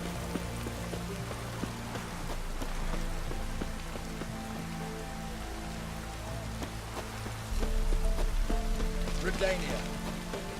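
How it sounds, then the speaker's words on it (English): Steady rain patters on surfaces in a scene from The Witcher 3, with soft background music and occasional thuds layered underneath. "Looks like rain."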